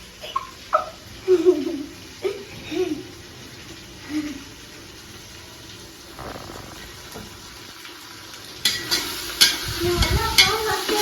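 Tomatoes stirred with ginger garlic in a pan for prawn biryani, intermittent spoon scrapes and light sizzling, ending in a louder burst of running water, with faint background voices.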